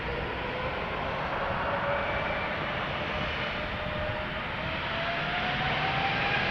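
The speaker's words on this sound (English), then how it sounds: "Air Baltic lining up, ready to go. Well, no, spooling up, I should say." An Air Baltic jet at Amsterdam Schiphol spools up its engines for takeoff, a steady broad roar with faint rising whine tones, heard at constant moderate loudness.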